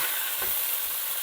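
Spare ribs frying in a pan, a steady hiss of sizzling fat with a brief stirring scrape partway through, close and even throughout.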